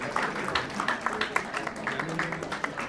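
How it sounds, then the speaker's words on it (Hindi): An audience at a family get-together applauds a child honored with a life-saving medal, steady mid-level clapping spread across the gathering with voices faintly underneath. "जोरदार तालियों से आप इसका हौसला बढ़ाएं"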